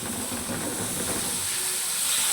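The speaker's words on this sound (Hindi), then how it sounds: "4-5 मिनट इसको हम फ्राई करेंगे" Vegetables frying in a large kadhai for chicken chow mein give a steady, loud hiss that runs unbroken and close throughout.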